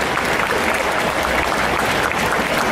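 Loud, dense audience applause for a cosplayer at an indoor cosplay contest, steady clapping filling the hall throughout.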